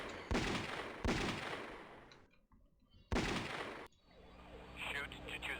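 Gunshots from a Sega Saturn light-gun video game fire as three loud, abrupt cracks spaced a second or two apart, followed by game music and effects.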